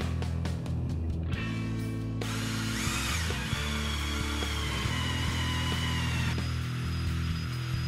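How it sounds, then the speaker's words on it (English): A power tool whines steadily while sanding powder coat out of Honda CL125 motorcycle fork tubes, with a dense grinding drone and shifting pitch; close and continuous, no talking. "we're going to try to remedy that situation by sanding that powder coat out"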